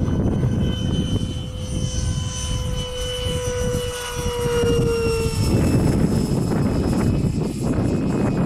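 A Flitetest Viggen RC jet with a 90mm electric ducted fan streaks by in a fast downwind pass, its loud whining roar sweeping down in pitch as it passes, then a broad rushing noise swelling as it goes.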